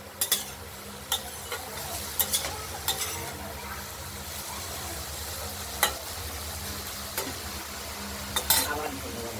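Pointed gourd frying in a pan under a continuous sizzle, punctuated by irregular sharp scrapes and knocks of a spatula being stirred, close up with no talking.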